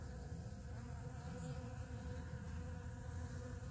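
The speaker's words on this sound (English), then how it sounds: "Shy bees." Bees collecting pollen close up on flowers, buzzing steadily and close with a continuous wing drone and no talking.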